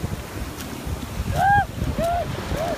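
Ocean waves washing up on a sandy beach at Long Beach, a soft rolling rush that swells midway with wind buffeting the microphone and children's voices calling out faintly.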